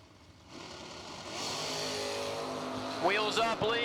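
Drag racing Chevrolet Nova and Camaro launch and rev hard at a bracket race, engines building from a distant rumble to a loud, rising roar, with an announcer talking over the noise throughout.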